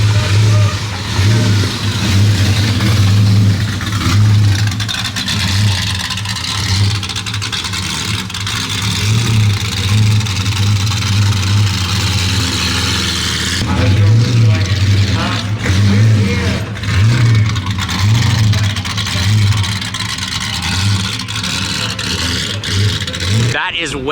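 A yellow Jaguar XJR with a straight-piped exhaust revs loudly and repeatedly, its deep engine rising and falling in pulses throughout, with people talking over it.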